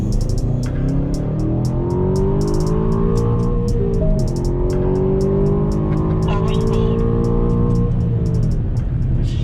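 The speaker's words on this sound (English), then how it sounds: "we're gonna see how 550 horsepower twin turbo feels." A 550-horsepower twin-turbo SUV accelerates hard onto a highway, its engine droning loud and steady with rising and falling tones through delayed gear shifts, a repeating high ticking overhead and people talking over it.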